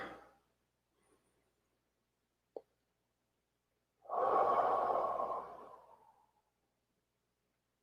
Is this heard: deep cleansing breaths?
yes